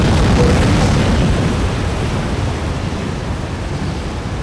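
Tornado wind in Farming Simulator 25: a loud, continuous low roar of rushing air, broad and booming, that eases slightly over a few seconds without pause, with no talk.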